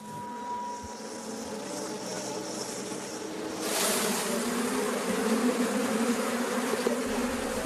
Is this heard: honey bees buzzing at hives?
yes